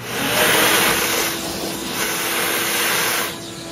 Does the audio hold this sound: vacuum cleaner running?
yes